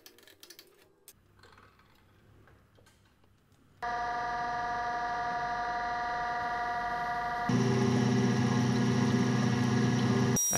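A surface grinder grinds a magnetic chuck: after a few quiet seconds the machine starts with a steady, tonal whine and hum, which steps up louder and fuller partway through and runs on continuously, close and with no talk.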